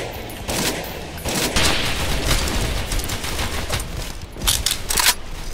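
Rapid bursts of rifle and machine-gun fire crackle through a World War I trench battle in a Roblox game, loud and dense, with several volleys overlapping in close succession and no voices.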